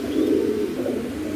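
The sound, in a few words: pigeons cooing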